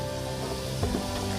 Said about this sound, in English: We'll add our onion, and it's starting to sizzle, which is what you want to hear.